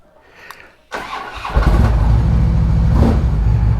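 A car engine cranks and catches, then settles into a loud, steady idle that carries on to the end, with no talking over it.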